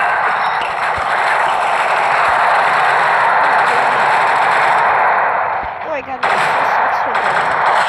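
Dense rapid gunfire in a war video game, with loud, continuous bursts overlapping almost without pause and a brief dip before firing resumes.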